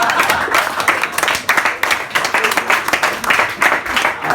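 Audience at a stand-up comedy show breaks into loud, sustained clapping and applause, dense and rippling throughout with brief swells, heard alone without talk.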